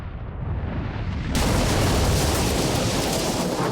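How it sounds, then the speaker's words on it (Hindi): Fort cannons at Vishalgad roar in a 1660 battle documentary scene, a loud sustained booming blast that swells suddenly partway through into a dense, rumbling roar with no voices. "उनकी सुरक्षा की खबर देने के लिए विशालगढ़ की तोपें गरजीं।"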